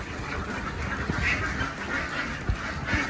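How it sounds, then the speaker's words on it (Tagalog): Ducks at a poultry farm in France, splashing and bathing in water along the side of their pen, with a steady watery wash and a few soft quacks against continuous background noise. "Pwede rin maligo yung mga itik niya dito sa gilid."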